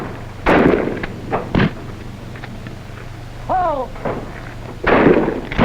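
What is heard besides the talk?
gunfire during shooting practice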